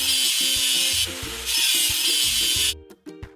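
Rubbing strokes scrape rust off a toy excavator, steady loud abrasive grinding that carries on for nearly three seconds and then stops, followed by a few faint knocks, with no talk.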